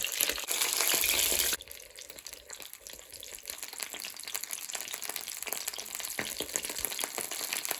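A loud burst of sizzling as Padrón peppers hit boiling hot oil, then a steady crackling fry that continues close by.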